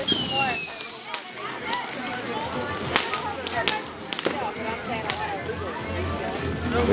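Illegal fireworks crack and pop repeatedly at Fourth of July celebrations, sharp bangs scattered across a noisy outdoor backdrop after an opening whistling rocket.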